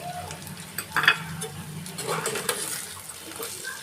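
Jackfruit seeds frying with ginger-garlic paste in a pan, a quiet sizzle broken by a few stirring scrapes and clinks of a spatula, close but soft, with no voices.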